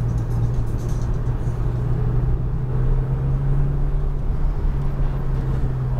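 Porsche GT3 on a track lap, engine droning as a steady low rumble throughout, loud and continuous with no talk.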